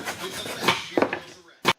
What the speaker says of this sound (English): Using a 1/4 inch round file to finish the end of the slot.